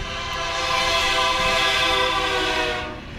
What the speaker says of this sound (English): the blaring sound of the horn could be heard from directly behind them